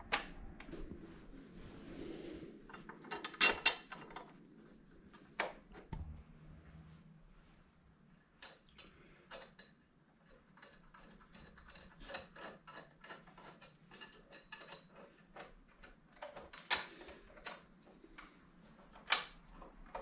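A metal top plate being refitted on a Wahoo Kicker Climb indoor trainer, with faint scattered clicks, taps and rattles of parts and tools spread out over a quiet background.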